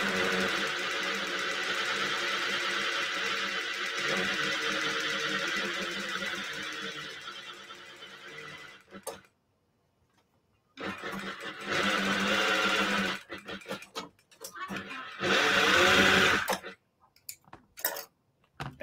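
Merrow overlock sewing machine stitching fabric without the presser foot lifted: a loud steady whir runs for about nine seconds, stops into silence, then returns in several shorter bursts.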